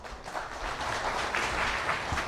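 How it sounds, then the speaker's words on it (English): Audience applause follows the President's remarks at a formal contract signing for the Metro Manila Subway Project, a steady round of clapping from a seated crowd lasting a couple of seconds. "Let us give the President a round of applause."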